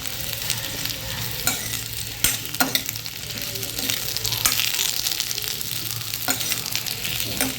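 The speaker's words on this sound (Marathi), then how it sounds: "सगळे रताळ्याचे काप घालून घ्यायचे हाय टू लो फ्लेमवर आपल्याला हे रताळ्याचे काप सगळे असे परतून घ्यायचे" Sweet potato slices fry in ghee over the flame with a steady close sizzle, while a spoon stirs and scrapes the pan in scattered clacks.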